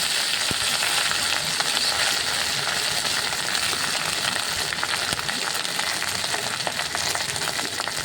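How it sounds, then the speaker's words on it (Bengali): Drumstick leaves stir-fried with onion and nigella seeds give a loud, continuous hiss and crackle of hot oil, steady throughout with faint scraping from stirring. "তারপর সজনে শাকটা দিয়ে দিলাম"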